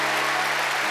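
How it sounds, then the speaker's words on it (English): Youth conference crowd clapping in a large venue, a brief dense wash of applause with a steady tonal hum underneath, heard for under a second. "Girls, you're clapping"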